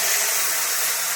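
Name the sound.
cumin, bay leaf and chopped tomato sizzling in hot oil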